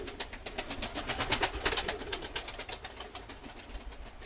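Young pigeons cooing up close in a loft, a steady run of soft, rhythmic throaty coos lasting throughout without talk.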